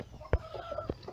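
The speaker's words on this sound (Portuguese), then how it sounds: "E eu botei junto com esse galo pente aqui" A galo pente rooster, kept with silkie hens among ornamental chickens, gives soft close clucks and a short tonal call, punctuated by a couple of dull thumps, quiet and brief.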